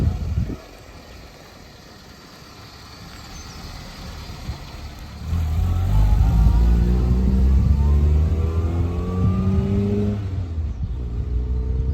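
Classic Mini car engine idling nearby, then revving hard and pulling away, its rising drone loud and close throughout the drive.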